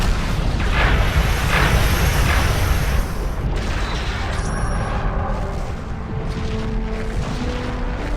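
A Romulan starship blowing up in the space combat game Star Trek Legacy: a loud, sustained explosive roar with a broadband rumble that holds for about three seconds, then eases into a lower, steady hum.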